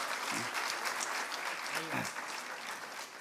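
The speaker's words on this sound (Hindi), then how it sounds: "अगर आप लोगों को अच्छा लग रहा हो तो जोरदार तालियां बजाते रहें" A crowd keeps clapping steadily throughout, dense and sustained applause with a couple of faint voices underneath.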